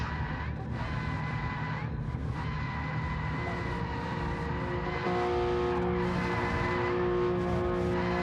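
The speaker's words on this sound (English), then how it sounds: "It's Mongo there doing burnouts." Race cars at Mount Panorama in a Flatout racing game, one doing burnouts on a formation lap, giving a steady engine drone with tire squeal and skidding. Loud and continuous, and the tone shifts partway through.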